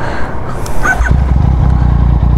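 Yamaha MT-09 motorcycle with an Akrapovic exhaust idling up close on a night street, a steady deep rumbling throb that firms up after a brief rev, loud and continuous.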